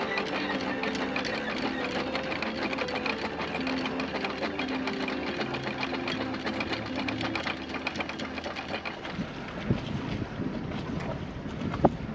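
A sailboat moves under way in exceedingly light wind, a steady broadband wash of water and wind noise running throughout, with a faint mechanical hum underneath and a few louder knocks near the end.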